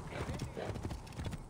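Horse hooves clip-clop in a steady trot in Assassin's Creed Origins, with a whinny, under constant game sound and someone talking.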